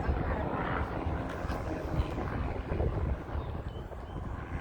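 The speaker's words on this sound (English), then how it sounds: "it's just the helicopters keep going over our house." A steady, heavy rotor drone of a helicopter passing overhead, with wind buffeting the microphone and a constant low rumble throughout.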